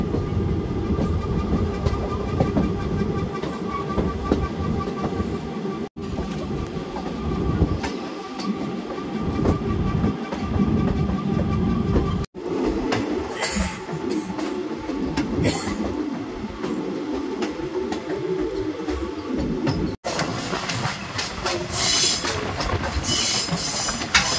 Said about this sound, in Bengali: দেখুন জাস্ট আমাদের ট্রেনটাই উপর দিয়ে আসলো